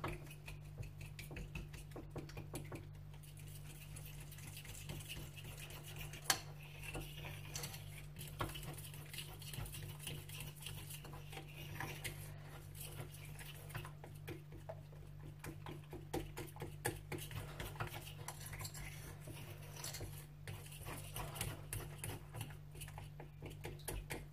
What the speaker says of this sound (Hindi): इसको अच्छी तरह से मिक्स कर लें